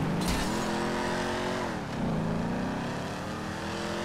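A car driven in GTA V on PC, its engine droning steadily with rising and falling revs and a brief shift dip partway through, loud and close with no talk over it.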